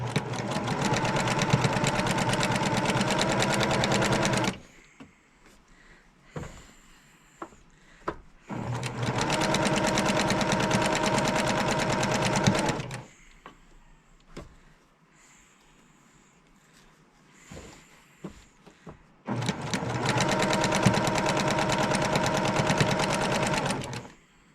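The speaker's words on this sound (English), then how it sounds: "I bought this new sewing machine when I retired." A home sewing machine used for quilting runs in three long, steady bursts, loud and close, separated by quieter pauses with small handling clicks and knocks.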